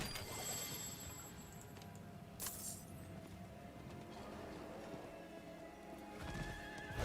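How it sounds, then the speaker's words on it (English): A horse ridden in Diablo 4 clip-clops steadily at a trot and whinnies, with game ambience behind it. "So we will not be getting off of our horse."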